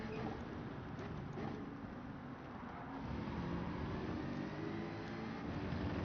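Car engine in Gran Turismo 7, racing at Circuit de la Sarthe, droning steadily throughout with a broad rumbling roar and a slight rise toward the end, with no talk over it.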